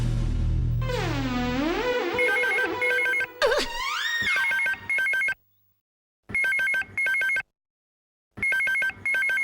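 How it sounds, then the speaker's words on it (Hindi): An old-style telephone bell rings in repeated double bursts separated by brief silences, loud and close, following a sliding warbling tone at the start. "लगता है खबरी का फोन है।"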